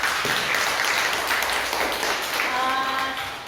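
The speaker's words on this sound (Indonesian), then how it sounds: "tepuk tangan dulu untuk kita semua." Audience applause closing a session of a teachers' positive-culture presentation, a continuous rush of many hands clapping that slowly fades near the end as a voice begins speaking.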